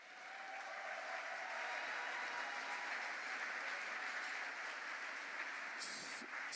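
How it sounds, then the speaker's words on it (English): A gala audience gives sustained, steady applause for a development director called up on stage. The clapping is dense and fairly distant, holding evenly throughout. "if you would give our amazing development director a huge round of applause"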